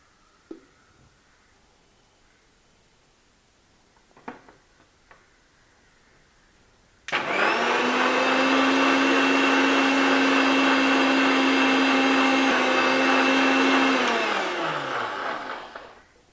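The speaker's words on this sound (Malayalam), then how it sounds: "ബാക്കിയുള്ള പകുതിയിലേക്ക് കുറച്ച് തണുത്ത വെള്ളം കൂടെ ചേർത്ത് അടിച്ചെടുക്കാം." After a few faint ticks and taps, a blender roars on at full speed, whirring carrot lassi mixture with cold water for about eight seconds before winding down.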